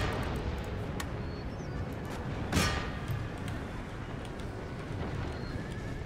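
Horses neigh and hooves clatter amid battlefield noise in the strategy game Empire: Total War, with one loud whinny standing out midway over a steady rumble of combat.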